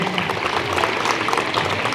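Crowd applause greeting a guest at a public gathering in Lohardaga, a dense steady patter of many hands clapping throughout, fairly loud and continuous with no pause.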